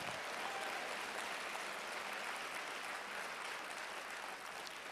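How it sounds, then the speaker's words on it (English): A church congregation claps hands in dense, sustained applause that holds steady and loud for the whole stretch, a continuous wash of many hands with no voices standing out. "Come on, clap your hands louder than that."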